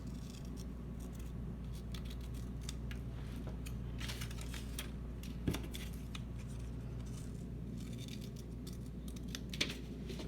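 Scissors snip through paper while cutting out paper eyeballs, soft repeated cutting sounds close by, with a couple of sharper clicks.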